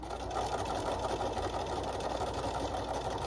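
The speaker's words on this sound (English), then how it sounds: "Do a little assembly line sewing." A domestic sewing machine runs steadily at close range, stitching the lining of a fabric trick-or-treat bag in one continuous, even motor whir with no pauses or talk.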